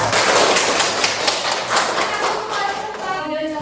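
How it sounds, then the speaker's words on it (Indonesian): A class of schoolchildren claps for their group in a classroom, a dense burst of hand claps that fades out over a few seconds. "tepuk tangan untuk kelompok 1"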